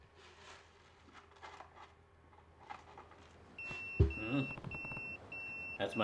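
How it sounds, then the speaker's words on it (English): An electronic pager in the video game Yakuza 0 gives a series of short, high, evenly spaced beeps in the second half. Before the beeps come soft game ambience and faint rustling, with a thump just before they start. "That's my beeper."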